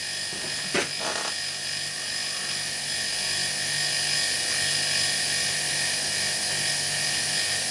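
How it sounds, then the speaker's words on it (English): An air compressor runs steadily while charging up to pressure, a continuous droning hum with a high whine that holds level throughout, after a couple of brief knocks at the start. "100 psi on a compressor, another 40 psi to go"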